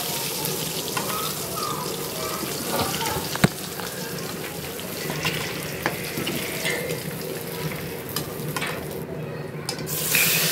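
Remaining pangas fish pieces frying in hot oil in a pan, a steady close sizzle throughout with occasional clinks and scrapes of a utensil, no talking.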